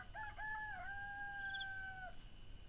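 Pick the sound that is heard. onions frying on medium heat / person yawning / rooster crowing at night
rooster crowing at night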